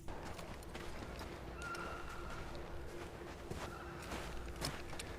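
Horses walk at a steady pace during a snowy medieval-fantasy ride, their hooves clip-clopping continuously at close range over a low ambient rumble, with no one speaking.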